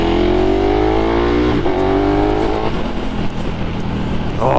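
KTM Super Duke motorcycle engine with a Pipewerx GP exhaust, baffle removed, revving hard: a loud, raspy roar rises and falls continuously, close by, with pitch shifting between revs and no talking.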